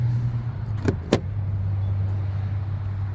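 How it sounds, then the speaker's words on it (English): Doors of a 2007 Toyota 4Runner Limited 4WD V8 open with two quick, close clunks from latches or lock actuators, over a steady low hum from the idling vehicle. "we're gonna walk around and try to open all the doors"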